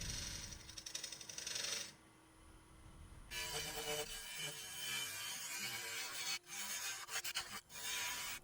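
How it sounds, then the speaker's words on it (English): A half-inch skew chisel cuts a tenon on a spinning wood bowl on a lathe, giving a close, quiet, rasping scrape with a brief pause and a few sharp breaks in the contact. "using a 1/2-inch skew chisel to put an angle on that tenon"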